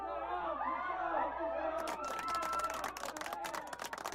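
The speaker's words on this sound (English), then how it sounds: "So clapping or screaming, depending on how it is." Passengers clap and chatter in a crowded airliner cabin as a simulated landing reaction in a flight simulator add-on. The cheering stays steady under a continuous cabin hum.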